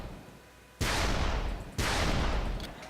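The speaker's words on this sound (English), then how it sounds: "Oh, it's a grenade launcher." Grenade launcher fired in the Ace of Spades video game, two loud, heavy booming blasts about a second apart, each followed by a rumbling tail.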